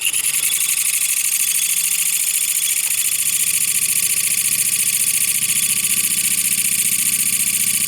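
An old Prince dynamo motor runs steadily at around 1000 RPM, a continuous even mechanical hum with a hissing whine on top, close and fairly loud, with no voices.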